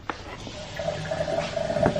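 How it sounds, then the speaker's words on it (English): Hot water running from a tap into a bowl while setting up for brow waxing and a microdermabrasion facial, a steady close hiss of flowing water with a faint tone rising as the bowl fills. "turn the hot water on"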